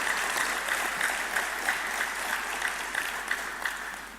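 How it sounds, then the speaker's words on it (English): Conference audience at an opening ceremony gives a round of steady, even applause that fades slightly toward the end, with no talking over it. "You can give Pandora a round of applause."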